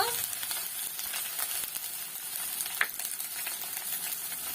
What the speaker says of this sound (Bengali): আমি ভালো করে কষিয়ে নেব মশলাটা